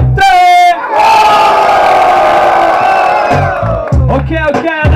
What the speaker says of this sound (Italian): Al mio tre voglio un urlo per Ramsey.